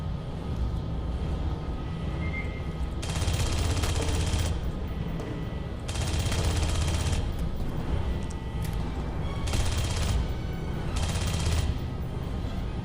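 Bursts of automatic gunfire in the video game Aliens: Colonial Marines, several sustained volleys of a few seconds each, loud over a steady rumbling game soundscape.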